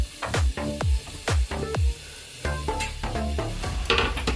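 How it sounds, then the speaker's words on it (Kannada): A large onion sizzles as it goes into two spoons of hot oil in a pressure cooker for chicken semi gravy. Loud crackling bursts come with repeated sharp clanks of a spoon stirring. "ನೆಕ್ಸ್ಟು ಒಂದು ಬಿಗ್ ಸೈಜ್ ಈರುಳ್ಳಿನ ನಾವು ಒಗ್ಗರಣೆಗೆ ಹಾಕ್ಕೊಳ್ಳೋಣ."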